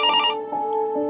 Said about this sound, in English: The next morning, each of the boys received a worried phone call from Shinichi's mother.